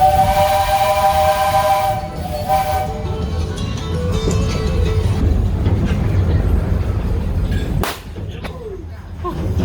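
A train's steam whistle sounds loud and close, holding steady tones for the first few seconds before cutting off, then continues over a dense rumble of rolling rail noise and rain, with a sharp burst near the end.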